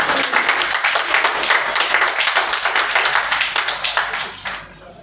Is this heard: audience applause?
yes